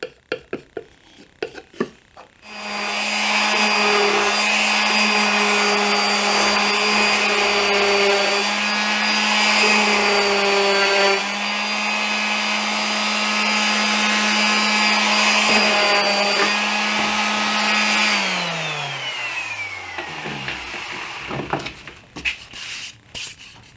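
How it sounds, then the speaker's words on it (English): A turned wooden bowl spins on a woodturning lathe as it is sanded, giving a steady loud motor whine with faint rubbing that holds for about fifteen seconds, then winds down in pitch as the lathe stops. "I'll sand it down."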